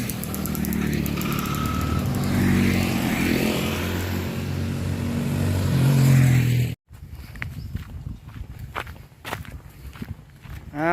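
A Honda Tena motorcycle ridden fast passes close by with a loud, rough engine roar and wind rumble for about seven seconds, then cuts abruptly to quieter surroundings with scattered clicks and faint movement.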